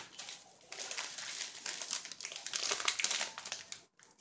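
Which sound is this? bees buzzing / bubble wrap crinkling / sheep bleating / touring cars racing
bubble wrap crinkling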